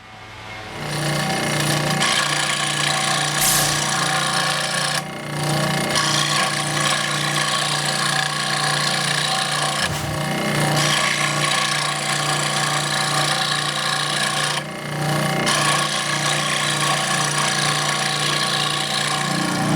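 Power saw cutting through a clamped piece of wood for custom board game pieces, running loud and steady with brief dips near five and fifteen seconds as the blade works through the board.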